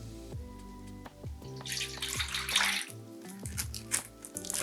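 Water and oil poured into a mixing bowl while making challah, a running, splashing stream that swells and fades over several seconds, close by.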